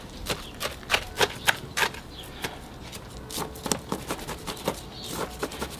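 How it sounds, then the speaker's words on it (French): Chopsticks tamp bonsai substrate around the roots of a collected deciduous tree being repotted, giving a string of close, dry, gritty taps and scratchy pokes in an uneven rhythm, with no one talking. "On va servir des baguettes chinoises pour bien tasser le substrat, pour qu'il passe vraiment dans tous les interstices."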